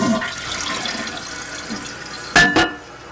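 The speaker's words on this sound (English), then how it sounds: "I'm going to flush the toilet just so the fresh water will change again." A toilet flushes with a rushing, gurgling surge of water, close and fairly loud, ending in two sharp clunks and a fading trickle.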